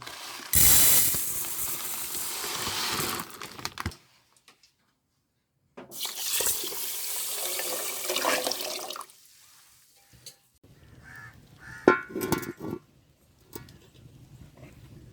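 Water runs and splashes into a pot of basmati rice set to soak for egg biryani, a loud gush for the first few seconds, then a pause, then more pouring and some clinking of the vessel.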